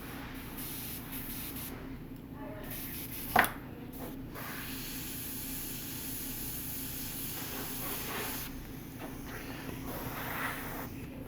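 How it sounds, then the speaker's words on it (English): A clogged airbrush sprays paint with a soft, uneven hiss that sputters and pulses over several seconds, interrupted by one sharp click, quiet and close. "My airbrush is clogged again."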